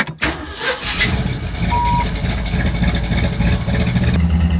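A vintage Jeep resto-mod's engine runs steadily on fuel injection, a loud constant rumble after a brief knock at the start, with a faint beep partway through.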